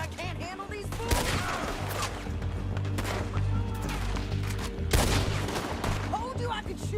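Rapid gunfire rattles through a Red Dead Redemption 2 shootout, with repeated sharp shots and echoing cracks over a low rumble while characters speak in between.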